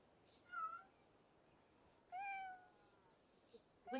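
A cat meows in a hidden-cats street market game, two distinct drawn-out meows separated by a pause, then a third starting at the end, clear over a steady faint electronic hum.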